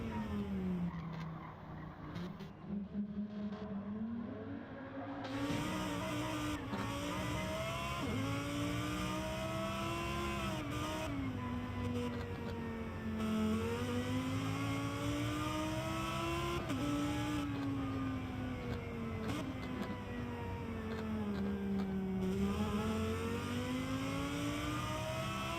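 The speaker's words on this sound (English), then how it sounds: "He's in the Lamborghini Hurricane." Lamborghini Huracán race car in Gran Turismo 7, engine droning steadily with pitch rising and falling through gear changes and corners, some tire squeal, continuous and moderately loud over a long stretch.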